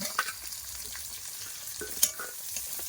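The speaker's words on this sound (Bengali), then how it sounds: "পেঁয়াজ রসুন সব ভালো করে ভেজে নেবো" Onion and garlic fry together in a hot pan, giving a continuous close sizzle with occasional spatula scrapes and pops, and no voices.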